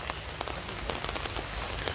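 Rain patters steadily on foliage and surfaces along the Macritchie Treetop Walk trail in Singapore during a trek, a dense, even hiss of drops with occasional louder taps, close and continuous, with no voices.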